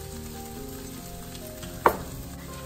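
Tomatoes cooking down with chilli powder and masalas for a Kerala prawn masala, a continuous close frying sizzle with one brief stirring clack partway through.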